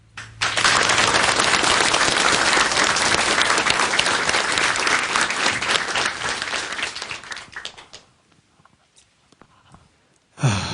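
A lecture audience at a televised health talk on constitution-based food pairing gives loud, dense applause that rises quickly, holds strong for several seconds, then fades into near silence before a sound returns at the end.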